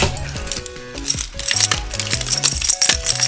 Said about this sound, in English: Those are the keys.